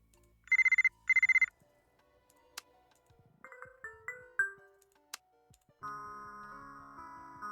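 A ringtone made from a recording in the video game Buried Stars: two quick bursts of bright electronic ringing, followed by sparse chimes and a sustained tonal phrase, clear and alone.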